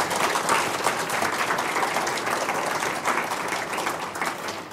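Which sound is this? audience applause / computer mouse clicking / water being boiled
audience applause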